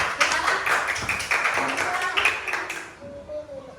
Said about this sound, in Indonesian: Tepuk tangan untuk Mbak Zawa.